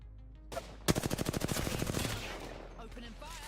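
Rapid burst of automatic gunfire in the Apex Legends video game, about a dozen sharp evenly spaced shots in quick succession, close and punchy, followed by fading reverberant tail and faint game sounds.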